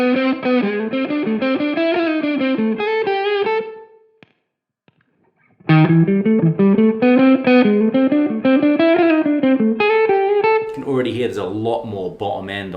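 Electric guitar runs through a Klon overdrive pedal into a super clean amp channel, sounding gritty and ratty in the highs; two melodic phrases separated by a brief silence, then speech begins near the end.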